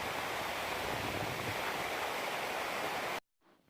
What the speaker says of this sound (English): So this was our biggest waterfall yet of the trip.